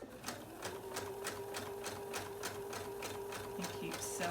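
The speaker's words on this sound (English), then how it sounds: "And keep sewing along." Sewing machine stitching a fully lined A-line jumper, running steadily with a fast, even stitch rhythm, close and clear with no talk.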